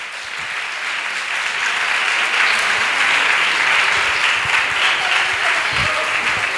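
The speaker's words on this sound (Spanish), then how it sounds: "Un fortísimo aplauso para él." Spectators at a televised street singing contest give a young singer a strong round of applause that swells from moderate to loud and holds steady, a thick sustained clapping with no talk over it.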